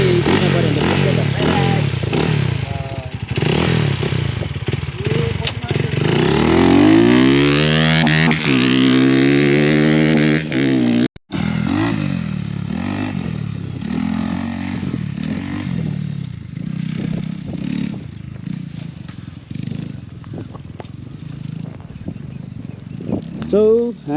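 Crossfire RMZ 250 motorcycles ride a track at a launch event, engines revving and rising in pitch as they pass close by, then dropping back into repeated throttle bursts, with people talking over them.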